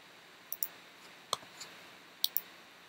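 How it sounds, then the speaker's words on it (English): Typing on a computer keyboard, a few sparse, faint clicks of keys pressed in small clusters against quiet background. "just type in their name"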